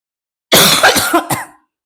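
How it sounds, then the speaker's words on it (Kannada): A single harsh cough from a woman, close and loud, breaks into a few quick rasping bursts over about a second before stopping. "ಇನ್ನೂ ಸ್ವಲ್ಪ ಕೆಮ್ಮು ಹೋಗಿಲ್ಲ ನನಗೆ"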